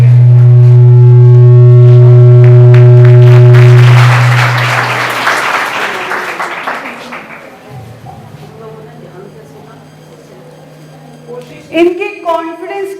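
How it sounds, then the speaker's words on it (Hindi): Children at a school gathering who spoke at the microphone get a short burst of crowd clapping that rises out of a loud electrical hum, then fades into quieter room noise before a voice resumes. "इनके कॉन्फिडेंस के लिए तालियां।"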